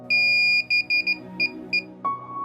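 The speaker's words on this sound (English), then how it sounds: "the battery LED blinks in sequence and there's a beeping noise" A DJI FPV remote controller beeps while linking, a long tone followed by a run of short, close electronic beeps in an uneven pattern, then a lower sustained tone at the end.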